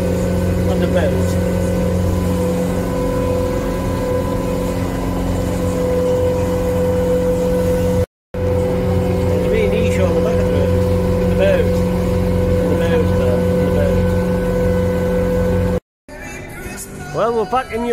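A boat engine drones steadily at a low pitch throughout, briefly cutting out twice, with faint voices and water noise around it.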